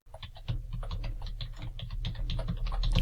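Close, steady typing on a computer keyboard, a quick patter of key clicks over a low background hum that grows slightly louder toward the end.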